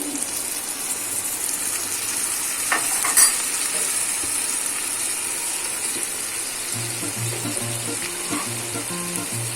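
Salt, turmeric and mixed spices fry in a pan for a vegetarian chhana curry, with a steady close sizzle, a spoon stirring and scraping, and a brief clink, no talking.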